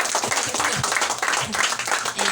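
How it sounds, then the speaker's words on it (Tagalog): Applause and clapping from a church congregation during a Sunday worship service, a dense crackle of many hands sustained for a couple of seconds, with some voices mixed in. "Malakas na palakpak sa ating Diyos."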